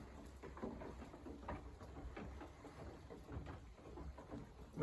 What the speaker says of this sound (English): I don't know if you can actually hear the rain hitting the roof